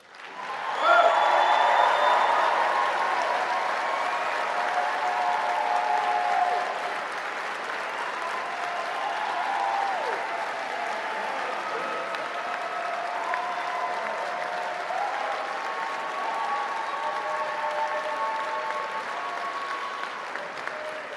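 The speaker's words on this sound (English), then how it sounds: "we can do better than that in terms of applause" Sustained applause from a graduation convocation audience as graduates stand, a dense wash of clapping with cheers and whistles on top, loudest in the first seconds then steady and full for about twenty seconds.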